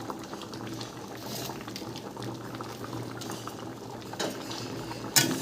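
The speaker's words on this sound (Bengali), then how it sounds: "এবার গ্যাসটাকে বাড়িয়ে দিয়ে ডালটা আমি 10 মিনিট ফুটিয়ে নেব" Lentil dal with bottle gourd bubbling steadily in a pot, a dense continuous simmer with a faint clink near the end.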